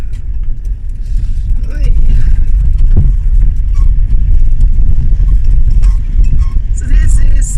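A small car driving through the narrow streets of a Greek town on the way to Neda waterfall; a steady close engine and tire drone fills the clip, with a voice speaking over it.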